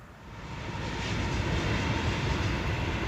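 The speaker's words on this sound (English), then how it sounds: "That's the coal train." A coal train passing along a railway track in open country, its low continuous rumble swelling quickly and then holding as a loud, steady roar with no voices.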